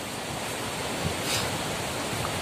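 Steady broadband rush of sea waves breaking on the beach beside an abandoned house at Anyer, a continuous wash with a brief swell near the middle, no voices.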